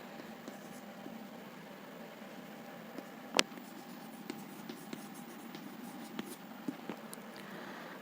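Handwriting, faint and close, a soft continuous scratch under a steady background hiss, punctuated by a few light taps and one sharper click.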